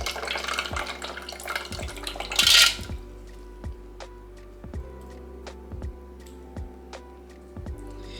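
Water pouring through rocks in a semi-hydroponic houseplant pot, a brief gush of splashing followed by slow, regular drips trickling out below in a quiet room, with no speech.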